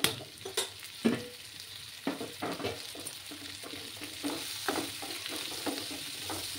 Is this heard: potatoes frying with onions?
yes